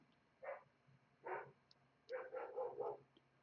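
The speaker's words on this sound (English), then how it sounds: "forgive the dog" A dog barks indoors in a few separate short bursts, then a quicker run of four or five barks, moderately distant and fairly faint over quiet room tone.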